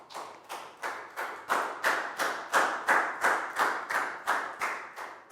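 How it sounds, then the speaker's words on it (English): A primary classroom claps for a student in a slow, regular rhythm, about a dozen distinct unison claps spaced evenly, moderately loud and close, with no talking over them. "a big round of applause for Net"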